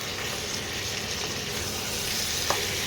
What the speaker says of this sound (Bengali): এবার আমি চিকেনটা একটু ভাজা ভাজা করব পেঁয়াজের সঙ্গে।